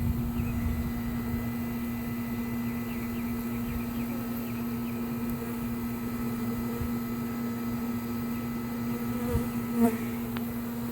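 Honeybees buzz steadily around a hive being cut out and removed, a dense close drone with a sustained low hum holding throughout, occasional louder passes near the end.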